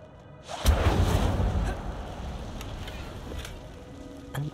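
Incendio, a fire spell in the video game Hogwarts Legacy, is cast inside a cave as a sudden loud whooshing burst that quickly fades into a softer crackling rush.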